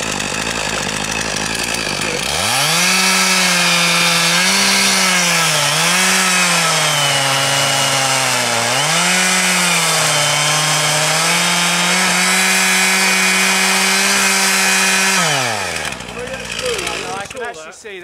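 A chainsaw revs hard and cuts into a tree during felling, its loud, steady engine drone rising and dipping under load for about thirteen seconds before it drops back to idle. No one speaks over it.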